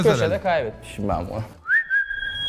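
A person whistles a short rising note that settles into a sustained high tone, trying to trigger a key finder, heard right after someone talks nearby.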